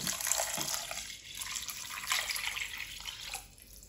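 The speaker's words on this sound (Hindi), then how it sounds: "यहाँ पे 1 लीटर हम पानी ऐड करेंगे।" Water poured from a vessel into a cooking pot for a home recipe: a steady splashing, trickling pour that runs close and fairly loud for several seconds, then thins out near the end.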